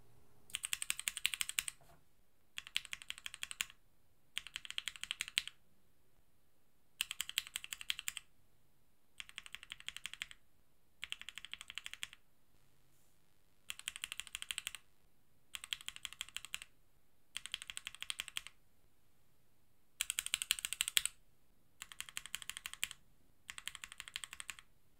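Bursts of rapid typing on a mechanical keyboard fitted with linear switches such as Black Inks, Creams, Tangerines or Tealios, about ten separate runs of dense clicking keystrokes separated by short pauses, close and with no voices.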